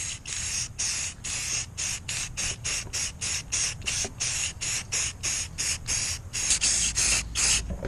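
A spray can laying a coat of paint on a Subaru turbo uppipe, heard as a long run of short, sharp hissing bursts in a fairly regular rhythm, close and loud, with no talk.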